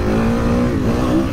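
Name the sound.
Kawasaki KX 450 2023 motocross bike engine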